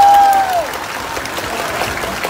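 Studio audience applause at a Vietnamese dance game show, steady clapping that follows a short spoken phrase and continues at moderate loudness to the end.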